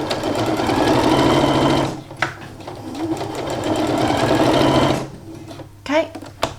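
A sewing machine top stitches a fabric bag in two close, loud, continuous whirring runs separated by a short pause, with a voice briefly heard at the end.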